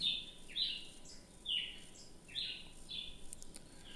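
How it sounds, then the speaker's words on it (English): Birds chirp in the morning with quiet, bright two-part calls repeating about once a second, faint and somewhat distant over a soft background hush, with no one speaking. "The birds are chirpy this morning."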